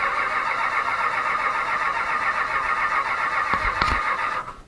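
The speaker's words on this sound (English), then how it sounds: "Got the fuel pump on. Truck's in neutral. And we're going to try to get it going there." A gelled diesel engine in an old Ford F250 pickup cranks hard on a cold start, a steady loud starter grind that runs without catching, with a couple of sharp knocks near the end before it cuts off.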